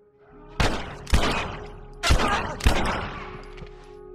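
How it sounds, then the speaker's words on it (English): Gunfire in the video game The Last of Us, four heavy shots spaced about a second apart, each a sharp loud crack with a trailing rumble and faint debris clatter. "I'm just blindly shooting into the dark."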